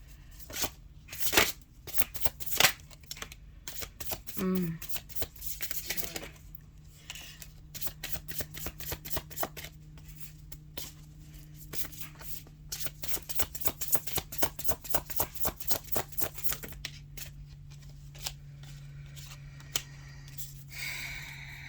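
Tarot cards shuffled by hand, a long run of rapid riffling flutters and soft slaps, close and crisp, quickening in bursts and easing off, with no talk.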